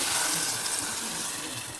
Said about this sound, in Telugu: దీంట్లో నీళ్ళు పోయాలి.